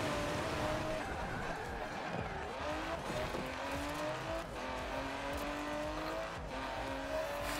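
A 2019 Aston Martin DBS Superleggera in the racing game Forza Horizon 4 drives with a steady, loud engine drone whose pitch climbs gradually, mixed with tire noise and the occasional brief knock or thump.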